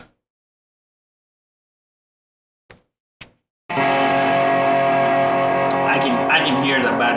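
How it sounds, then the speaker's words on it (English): An electric guitar played through a Mojotone Plexi kit amplifier with bad, compressed distortion, its bias running about 10 milliamps over. After near silence and two soft knocks, a loud, sustained, gritty distorted tone comes in and holds to the end. "I can hear the bad distortion."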